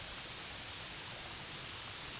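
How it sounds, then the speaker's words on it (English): Glitchy rain from the video game Gothic 3 hisses as a dense, continuous broadband wash, steady and fairly loud with no talking over it. "the glitchy rain is irritating"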